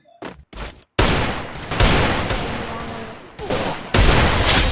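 Shooting video game gunfire cracks out in a few short bursts, then gives way to sustained rapid automatic fire with a loud, dense, close sound and brief gaps, under occasional voice.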